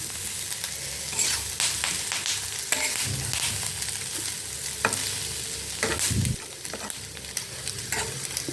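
Taro roast with curry leaves frying in a hot kadai, a dense crackling sizzle with spatula scrapes and knocks against the pan, close up and without voices.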